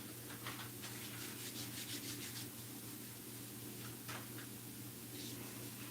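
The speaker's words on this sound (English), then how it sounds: "You can hear the lathe?" A wood lathe spins a wooden spinning top, giving a steady low motor hum with light rubbing and scraping sounds of the workpiece over it throughout.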